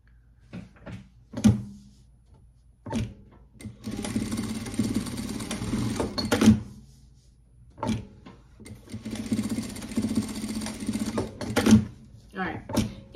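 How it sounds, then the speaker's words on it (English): A sewing machine stitches a label onto a handmade bag in two steady whirring runs of a few seconds each, separated by soft handling clicks and thumps, with the sewer's voice heard between the runs. "So I'm gonna sew my label on here."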